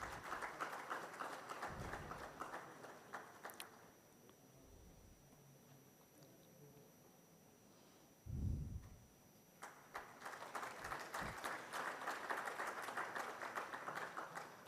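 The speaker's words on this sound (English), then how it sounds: "A big round of applause, ladies and gentlemen." Audience applause at a heavy haul industry seminar, faint clapping in two bursts separated by a quieter gap with a low thump, distant and soft in a large room.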